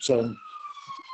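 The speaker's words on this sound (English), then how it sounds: "Ambulance noise from another hospital" Distant ambulance siren from a hospital, a faint wailing tone sliding downward beneath a short burst of nearby speech at the start, heard in the background of an online board meeting.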